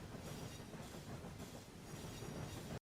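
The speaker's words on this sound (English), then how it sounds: "he doesn't edit the train, like, leaving the station or entering the station" A train rumbling steadily along the rails with a dense clatter of wheels, loud and constant for a few seconds, then cutting off abruptly.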